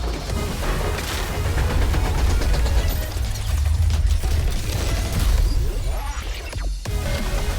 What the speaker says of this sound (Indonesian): Didukung lagi dengan suara tembakan dan ledakan yang menggelegar